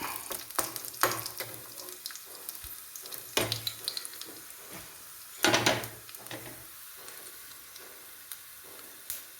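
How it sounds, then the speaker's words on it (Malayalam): Hot fried spice tempering is poured into a horse gram and raw banana curry in a pan, giving sharp sizzling bursts, then scraping and stirring with quieter gaps between the splashes. "ഇനി നമുക്കിത് കറിക്കകത്തേക്ക് ഒഴിച്ച് ഇളക്കാം."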